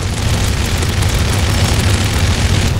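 A helicopter is shot down and blows up in the video game Modern Warfare 3 Survival mode, heard as a sustained loud, rumbling explosive roar with dense crackling debris across the whole stretch.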